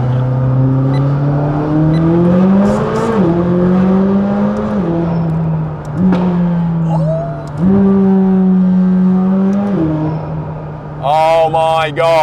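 A McLaren 600LT engine accelerates hard, its loud, rich exhaust note climbing in pitch through several gears, with brief dips at each shift and a crackling burst near the end.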